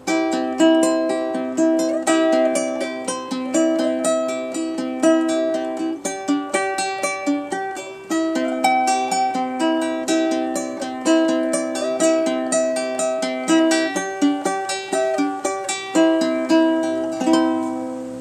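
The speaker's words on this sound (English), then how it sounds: "just a simple ukulele arrangement with the backing and the melody picked into it" A ukulele plays Mary Had a Little Lamb as a plucked melody over strummed backing, steady rhythmic picking, close and clear with no voices.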